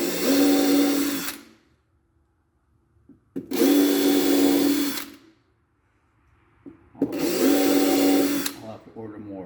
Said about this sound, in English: go get a drill, pre-drill a few holes